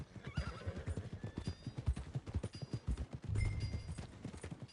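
Horse in Red Dead Redemption 2 whinnying while its hooves clip-clop in a quick, close, irregular rhythm, with a louder scuffle of steps toward the end.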